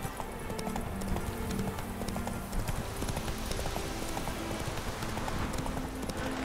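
Hooves clip-clop steadily as a horse trots through wheat fields in The Witcher 3 video game, a continuous rhythmic patter under a dense layer of game ambience and music.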